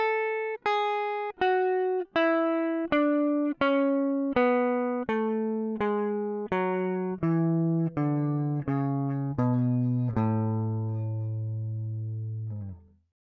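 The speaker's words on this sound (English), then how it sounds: "So let's come back down the other way." Guitar picking a major scale downward, one clear plucked note after another at a steady even pace, each ringing briefly, the final low note left to sustain and fade.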